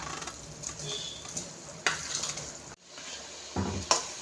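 Cooked ada being stirred into jaggery syrup in a pan for Onam ada pradhaman, quiet bubbling sizzle with intermittent scrapes and clinks of a spoon against the pan, close up.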